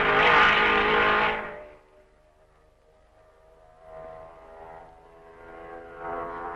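Vintage race cars in the 1955 Spa Grand Prix roar past at high speed, a loud, close engine blast that fades quickly, followed by fainter engines approaching again in the distance, no voices.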